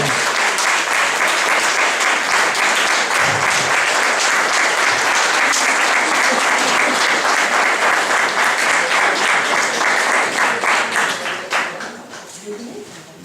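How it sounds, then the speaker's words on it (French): Wedding guests applaud the newly married couple at a French civil ceremony, a dense, steady wash of many clapping hands that carries on for several seconds before tapering off near the end. "Et vous pouvez les applaudir."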